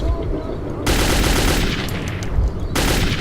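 An AK rifle fires in the video game Metro 2033, loud sustained automatic bursts with a brief gap in the middle, close and harsh throughout.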